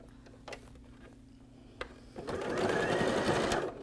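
A sewing machine running a straight stitch through pillow fabric, starting after a few small clicks and then whirring steadily at close range for over a second.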